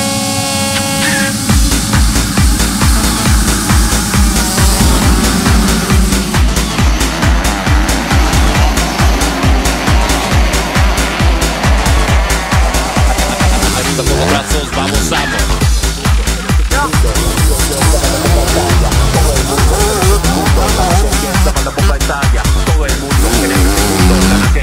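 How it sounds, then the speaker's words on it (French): Motocross bikes launching from the start gate for the third and final race of a 2014 event, a loud dense roar of many revving two-stroke engines with rapid rhythmic pulsing throughout. "Top départ pour la troisième et dernière manche."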